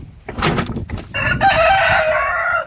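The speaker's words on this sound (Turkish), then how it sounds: "Bu horozlar da bana sinirleniyor böyle." Roosters crow loudly nearby in a farm garden, one harsh crow following brief clucking and rustling, the calls agitated and close.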